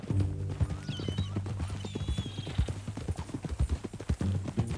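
Horse hooves clip-clop in Red Dead Redemption 2, a close, brisk and steady rhythm of hoof strikes on ground with a brief whinny-like tone and a low hum beneath.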